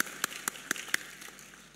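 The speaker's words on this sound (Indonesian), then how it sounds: "Kita berikan tepuk tangan bagi Tuhan Yesus" A church congregation at a GKII Pusat sermon claps faintly for Jesus. A few sharp, evenly spaced hand claps fall in a quick rhythm over a soft room background.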